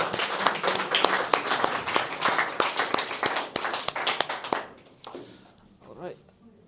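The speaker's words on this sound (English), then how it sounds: "give a big hand of applause to Edgars" A meetup audience at a DevOps and AI gathering in Latvia applauds a presenter named Edgars, with dense, lively clapping that fades out after about five seconds into a quieter room with a few stray sounds.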